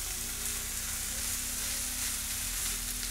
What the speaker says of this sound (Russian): Не зажариваем, а просто пассируем, чтобы овощи внутри остались такими плотненькими